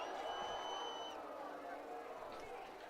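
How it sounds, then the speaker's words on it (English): Crowd noise at a night high school football game, Indianola vs Ankeny Centennial, a steady broad roar of many voices and cheering heard from a distance, fairly loud and continuous throughout, with a whistle-like tone early on. "Great crowd on hand tonight."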